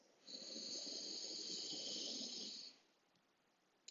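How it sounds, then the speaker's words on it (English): Slow, steady inhalation drawn in through the nose during a seated yin yoga session, a soft airy hiss lasting a couple of seconds close to the mic, then quiet. "Big breath in through the nose."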